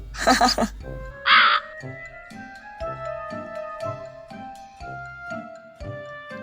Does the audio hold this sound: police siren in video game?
no